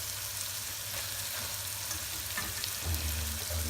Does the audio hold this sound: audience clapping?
no